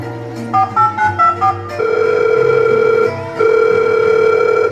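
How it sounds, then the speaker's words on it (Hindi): A telephone is dialed with a quick run of keypad tones, then a steady ringing tone sounds, pauses briefly and resumes, loud and clear with no talking. "अरे फोन लगा कर पूछ तो लूं कि वो घर पहुंचा कि नहीं"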